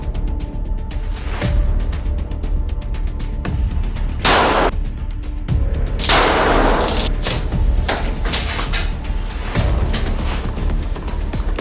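Loud gunshots and thuds ring out irregularly over a dense, noisy background in a Pakistani film, several sharp blasts spaced a few seconds apart.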